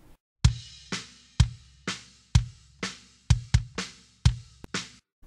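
An unprocessed kick drum captured by a kick-in microphone thumps about ten times at an uneven pace, each hit close and punchy with a short decaying tail and cymbal and snare bleed ringing above it.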